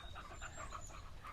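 A virtual puppy in the VRChat game pants quietly with rapid, rhythmic breathy huffs that continue evenly through the short stretch.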